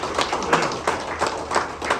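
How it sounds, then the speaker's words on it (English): A small group at a Fort Scott Area Chamber of Commerce coffee gathering, hosted by Briggs of Fort Scott, gives a brief, sparse round of applause for Carol, with uneven claps close by. "give her a little round of applause"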